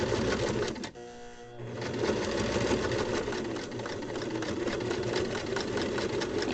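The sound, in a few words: sewing machine stitching strap fabric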